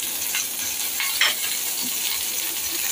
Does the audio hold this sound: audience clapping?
no